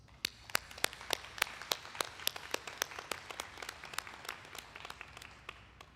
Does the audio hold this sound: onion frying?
no